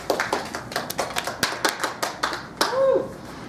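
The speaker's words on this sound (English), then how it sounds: "nice round of applause for Tim." A small group of fellow speakers claps for Tim after his speech, with sparse, uneven, fairly close hand claps over roughly three seconds and a brief whoop near the end.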